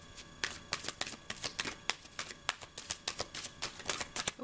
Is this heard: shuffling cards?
yes